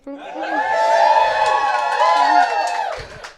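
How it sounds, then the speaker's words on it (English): An audience at an engineering talk cheers and whoops for a few seconds, a loud burst of mixed voices that swells, holds and then fades out. "I was expecting a bigger cheer than that."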